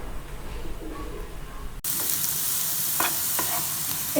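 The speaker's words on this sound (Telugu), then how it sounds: "ఈ పొట్లకాయ ముక్కలు ఈ రకంగా పచ్చివాసన పోయేంత వరకు బాగా వేయించుకోవాలి" Ridge gourd pieces fry in a pan for a curd chutney. A quieter stretch gives way abruptly to a loud, continuous sizzle with occasional stirring scrapes.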